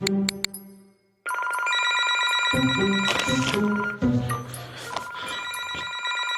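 A phone rings for an incoming call with a bright, repeating electronic ringtone that starts after a short silent gap and continues with layered melodic bursts.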